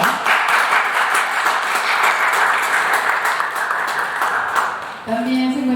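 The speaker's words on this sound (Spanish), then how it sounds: "Un aplauso para ella, por favor." A crowd at a Spanish-language art event in Querétaro applauds, dense and sustained clapping for about five seconds before fading as a voice begins speaking at the end.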